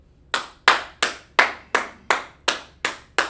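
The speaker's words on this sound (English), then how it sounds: "So let's clap it up" A group claps in slow, even unison at a gathering: about nine sharp, loud, close claps evenly spaced, with no talking over them.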